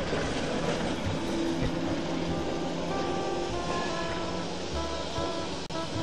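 A 1951 Odense tram runs along the green belt of Sønder Boulevard toward the city centre, a steady rolling rumble and wheel clatter that continues evenly at moderate volume throughout.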